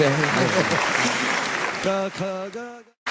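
Audience applause at a Bollywood award show fills the hall for under two seconds, then fades beneath a voice speaking through the PA before stopping abruptly.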